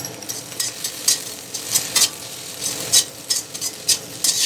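Okra sautéed in a pan with chilli powder, a steady sizzle of frying under repeated scraping stirs of a utensil against the pan, close and clear with no talking.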